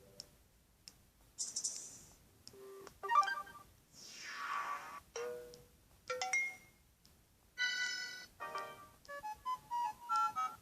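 A series of short ringtone snippets from a Samsung Galaxy S3, melodic chimes and tones, each played briefly and separated by small clicks and pauses.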